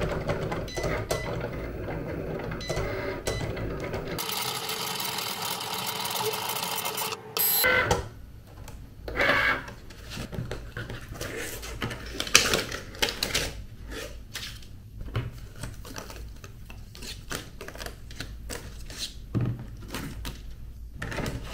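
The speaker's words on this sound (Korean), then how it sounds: "다른 종이들도 매트에 붙여서 머신에 차례대로 잘라주세요." A Cricut cutting machine cuts black cardboard attached to a mat, giving a run of rapid mechanical clicks and ticks, then whirring carriage movements and scattered clacks, close and moderately loud.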